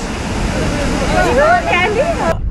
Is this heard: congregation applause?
no